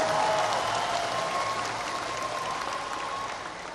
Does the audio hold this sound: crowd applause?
yes